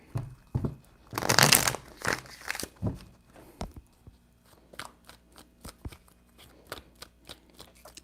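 Tarot cards are shuffled by hand: a dense riffling burst at first, then a run of lighter, quick card flicks and taps, close and fairly crisp, with no voice over them.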